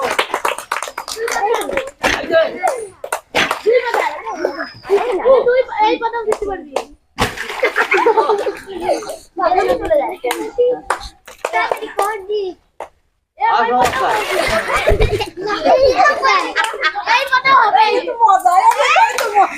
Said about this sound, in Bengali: হাততালি দাও, সবাই হাততালি দাও, হাততালি দাও,